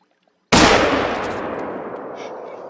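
A single hunting rifle shot in theHunter: Call of the Wild, a whitetail deer hunt in Virginia, bursting in sharply after near silence and leaving a long rolling echo that fades slowly across the open landscape.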